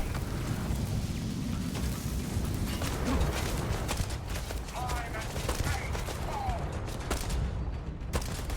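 Turrets fire in the video game Starfield, a dense stream of rapid gunfire bursts with crackling impacts over a constant rumbling game background, sharp shots peaking midway.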